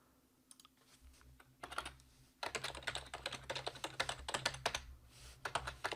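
Code being typed on a computer keyboard, with a few scattered key clicks followed by a fast, steady run of close, crisp keystrokes and no talking.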